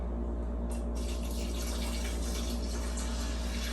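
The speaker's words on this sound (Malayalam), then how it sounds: "ഇനി നമുക്ക് ഇതിലേക്ക് ഒരു 1/2 കപ്പ് ചൂടുവെള്ളം ഒഴിക്കാം." Half a cup of hot water poured into biryani masala, a steady rushing splash over a low constant hum that lasts the whole stretch at moderate level.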